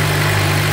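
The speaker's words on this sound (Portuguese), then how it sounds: "dou mais uma aceleradazinha e ligo o motor" A Suzuki GSXR750 Srad motorcycle engine runs at a steady idle during an oil change, close and loud with an even low throbbing hum and no voices.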